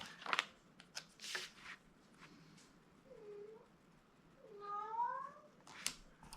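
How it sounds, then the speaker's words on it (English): Domestic cat meowing indoors, two drawn-out meows and a faint earlier one, soft and a little distant among light rustling and tapping. "Sorry if you can hear my cat in the background."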